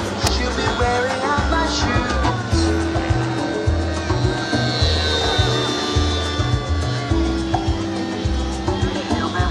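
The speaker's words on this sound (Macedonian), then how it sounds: "за да поздравиме Александар од Бугарија, кој што настапува со својот хеликоптер." A helicopter performing aerobatics at an air show, heard as a loud, steady rotor and engine roar with rhythmic low-end chopping and shifting whine as it maneuvers overhead, with crowd ambience behind.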